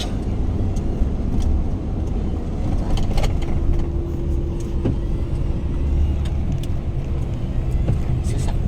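Steady road traffic rumble heard from inside a car queuing on the way home in the afternoon, a constant low engine and tyre drone with a faint steady hum and no talk.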